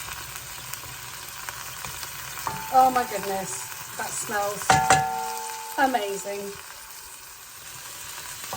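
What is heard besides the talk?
curry frying in pan after splash of boiled water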